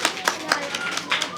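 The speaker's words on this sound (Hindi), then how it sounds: "तालियां।" A small literary festival audience gives a few sparse, separate claps at an uneven rhythm, close by and moderately loud, with some faint talk in the background.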